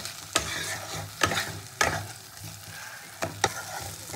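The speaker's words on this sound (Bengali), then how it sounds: "আলুটা দিয়ে কষাবো।" Fried potatoes stirred into sizzling spice masala for a singhi fish curry, a steady close fry hiss broken by several sharp scrapes of a spatula against the pan, no talking.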